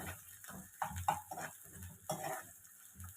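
Chopped onion for egg masala fries in a pan, with a soft sizzle under irregular scraping strokes of a spoon stirring, close and fairly quiet.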